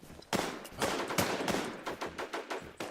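Gunfire rattles in the online shooter Warz Infestation, with repeated sharp bursts and single shots in an irregular rhythm, fairly faint and with no voices.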